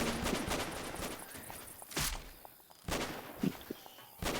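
Gunfire in the video game Left 4 Dead 2, with rapid bursts of shots in clusters and sharp louder cracks near the middle and end, set against steady game noise.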